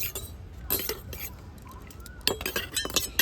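Lemon juice and vinegar being beaten together in a bowl make light, quick clinks and taps of a utensil against the bowl, in short uneven bursts at close range.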